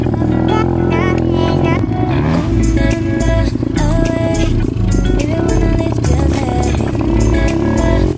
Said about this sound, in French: me familiariser avec la moto en passant la première, et puis même là, à l'instant même,